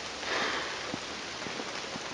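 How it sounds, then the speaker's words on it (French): Rain falls steadily as a dense, soft hiss on a cold early Sunday morning, with a few faint drips and no voices. "Il fait un peu froid et il pleut des cordes."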